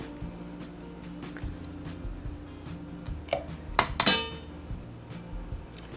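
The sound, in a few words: fork clinking in a pot while forming flour dumplings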